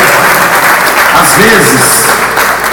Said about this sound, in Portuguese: Agora vamos aplaudir o Senhor Jesus.